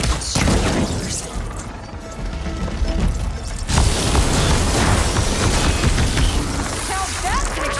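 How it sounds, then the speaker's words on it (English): An explosion in the video game Horizon Forbidden West, heard within dense, loud combat noise, with a heavy booming blast near the middle followed by a sustained crashing roar. "Now that's an explosion!"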